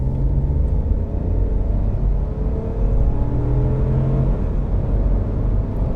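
Citroen C4 Aircross with a small 1.2 engine accelerating from inside the cabin, a steady loud low rumble with rising engine tones and a brief dip around a gear change, no voices.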